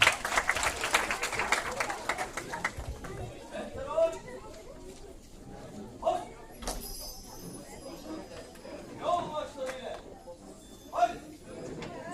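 Applause from an audience welcoming a Mehteran band onto the stage at a circumcision celebration, a broad wash of clapping early on that thins into scattered claps and crowd noise, with a voice talking over it.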